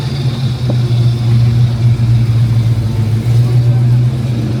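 A Ford T-top coupe at the Ford Nationals car show in Carlisle runs with a steady, low, humming engine note close by, holding an even idle rather than climbing in revs.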